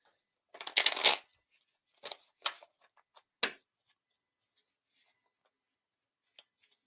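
Playing cards being shuffled with a quick riffling burst, followed by a few separate snaps and flicks as cards are drawn and laid down, then near silence with faint ticks.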